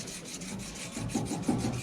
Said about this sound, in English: This is a 80 grit sanding stick,